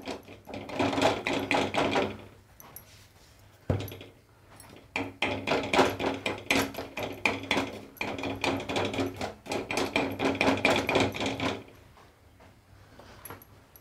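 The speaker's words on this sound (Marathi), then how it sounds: "ह्या चमच्याच्या टोचाने असं टोचा मारून घ्यायचे" The tip of a spoon pricks rolled methi paratha dough for crisp khakhra, making quick, close taps in three dense bursts separated by short pauses.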